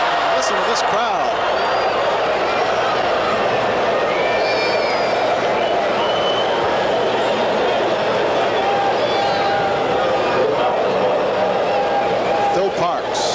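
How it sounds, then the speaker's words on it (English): Stadium crowd at the 1982 American Soccer League championship final between Detroit Express and Oklahoma City Slickers, a loud, steady roar of many voices with scattered shouts throughout. "Listen to this crowd."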